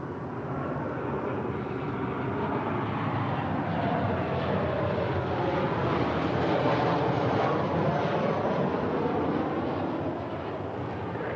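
A repainted Southwest Airlines Boeing 737-800 jet arriving at LAX, a loud continuous broadband roar with a slowly shifting whine that holds steady and eases slightly at the end.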